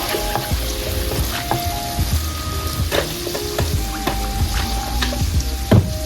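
Heavy cream sizzling and bubbling in a hot pan with olive oil and garlic for an Alfredo sauce, a steady crackling fry with occasional sharper pops and stirring sounds, close and loud.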